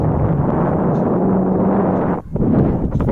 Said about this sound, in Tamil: காற்று பிச்சு விளாசுது.